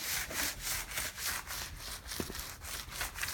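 A nano skin pad rubs across the paint of a 2018 Camaro SS, giving a continuous gritty scrubbing in regular back-and-forth strokes, close and fairly quiet.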